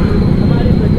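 A congested traffic junction in Bilaspur, India, on narrow roads packed with cars, bikes, scooters and bicycles, heard as a loud, constant low rumble of engines close by.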